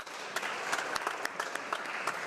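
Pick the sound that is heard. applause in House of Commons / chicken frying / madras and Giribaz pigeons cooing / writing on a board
applause in House of Commons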